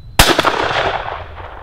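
A single loud shotgun blast fired at target dots from about 30 yards, a sharp crack followed by a long reverberant decay, with no talk over it.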